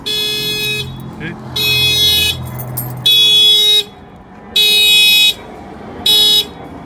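A factory car alarm on a 2018 Honda HR-V blares nearby in loud pulsing electronic tones, with about five on-off bursts separated by short gaps.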